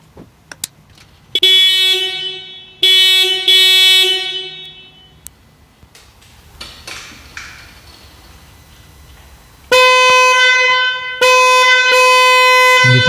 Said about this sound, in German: Einmal seht ihr unsere laute Hupe für die R1300 GS